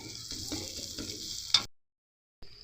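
Spice masala for Kashmiri dum aloo sizzles in hot oil, a steady close frying hiss with light stirring scrapes that cuts off abruptly, then resumes briefly.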